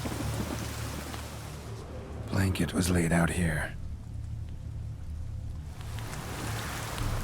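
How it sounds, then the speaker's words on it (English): Rain and thunderstorm in The Witcher 3 video game, a steady hiss of rainfall with low rumbles throughout, while someone speaks briefly in the middle. "A storm, damn it."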